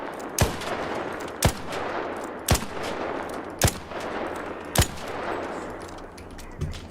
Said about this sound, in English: Oh, that's a sentry gun.